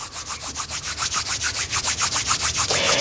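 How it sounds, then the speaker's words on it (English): Two palms rubbing briskly together during a yoga session, a steady rhythmic swishing of skin on skin repeating about six times a second, close and alone, with no talk. "Bringing our hands together in prayer or into Anjali Mudra. Rubbing them together,"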